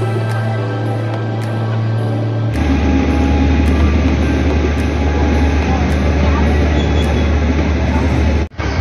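Interior of the 17307 Basava Express passenger train departing Mysore, a loud steady low rumble and broadband rail noise that swells after a few seconds as the carriage gets moving, continuous throughout with a brief dropout near the end.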